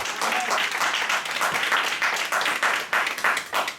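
A church congregation applauds, steady loud clapping from many hands with some voices mixed in.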